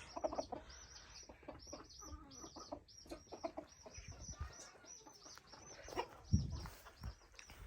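Roosters cluck and crow in a farmyard with the family's hens on a cold day, several calls overlapping in irregular bursts close by, with a few sharper chirps and short thumps mixed in.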